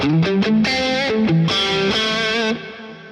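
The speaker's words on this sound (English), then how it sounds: "I've set up a mono delay now, and I'm running the delay after the amplifier," A distorted electric guitar through a Boss Katana amplifier plays a quick riff, with mono delay placed after the amp distortion, repeats trailing behind the notes and ringing out as the playing stops.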